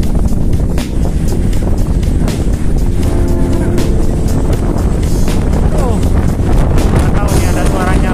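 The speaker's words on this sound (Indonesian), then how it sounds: "Gila anginnya. Lebih kencang daripada di Taipei." Strong wind buffets the microphone during a bicycle ride from Zhunan to Hsinchu and Zhongli in Taiwan, a loud, steady roar with rumbling gusts that runs through the whole stretch.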